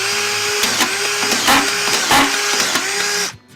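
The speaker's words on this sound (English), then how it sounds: "You just turn it on and drive screws." A Senco DuraSpin screw gun driving screws, a loud whirring motor with repeated pitch dips as each screw bites in, several in quick succession before it abruptly stops.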